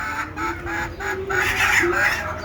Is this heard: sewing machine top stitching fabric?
no